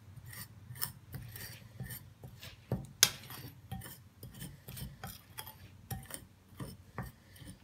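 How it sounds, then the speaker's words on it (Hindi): Henna powder being mixed in a bowl for homemade hair dye, with a steady scraping, rasping stir and scattered clinks of the spoon against the bowl, close and fairly quiet, with no talking. "मेहंदी लिया हमने 3 टेबल स्पून और इन दोनों चीज़ों को पहले मिक्स करेंगे।"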